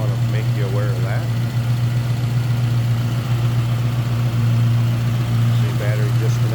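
A 1967 Ford Mustang's 302 V8 idles steadily up close with a deep, even hum throughout, while a person talks briefly over it near the start and the end.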